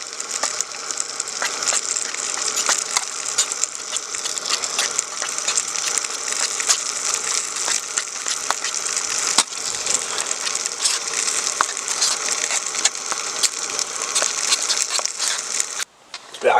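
Instant Smash mashed potato is stirred and mashed in a camping pot outdoors while sausages cook, a long run of close, gritty scraping and crunching strokes with irregular clicks and a faint background sizzle.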